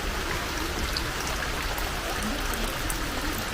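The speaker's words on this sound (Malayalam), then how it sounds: "ഇതുപോലെ ചുമ്മാ മഴ ഇങ്ങനെ പൊടിഞ്ഞുകൊണ്ടിരിക്കുക" Steady, soft hiss of rain falling continuously, with faint scattered drops and no voices.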